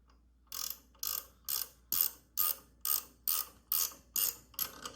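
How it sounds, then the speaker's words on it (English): A hand ratchet clicks through about ten steady, evenly spaced strokes while tightening wheel lug nuts on a 13-inch radial alloy wheel, close and crisp with no talking. "Then you can take a ratchet"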